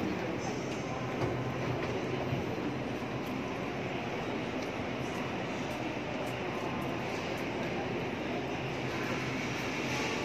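Old train in Taichung, a steady low rumbling and rolling noise heard at moderate distance, continuous for the whole stretch with faint ambient hiss.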